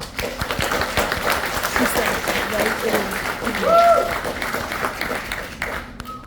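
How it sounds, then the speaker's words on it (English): Applause from a crowd at a US Army AIT graduation ceremony at Fort Lee, sustained clapping that swells briefly near the end before fading out. "Please give the graduates a final round of applause."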